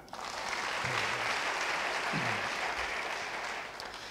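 Congregation at an online Sunday church service breaks into applause, clapping swelling quickly, holding as a dense even patter and tapering slightly near the end, with a few faint murmurs beneath.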